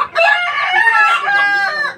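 Fighting cocks inside a chicken coop crow loudly and continuously at close range, a layered, drawn-out cock-a-doodle-doo with clucking woven through, several birds overlapping for about two seconds with no talk.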